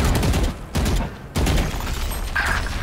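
Gunfire in the tactical shooter Valorant, on the Sunset map during a ranked match: loud bursts of shots fill the clip, broken by two short dips in level, with a brief metallic tone near the end.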